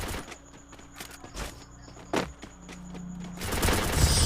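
Gunfire in the Free Fire video game, sharp shots cracking out at an uneven pace, with a loud, dense rush of noise building toward the end.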